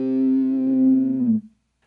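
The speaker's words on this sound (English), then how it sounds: "You can really hear the filter opening and closing on the sound" A single sustained electric guitar note runs through an Electro-Harmonix Q-Tron Plus envelope filter and fuzz, a buzzy harmonic-rich tone that holds steady for over a second, then drops and cuts off abruptly into silence.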